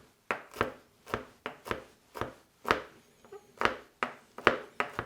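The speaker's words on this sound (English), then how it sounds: "And after that, chop." A knife chopping on a board while preparing a strawberry cream cake: a steady run of about a dozen crisp, close chops in an even rhythm, heard alone.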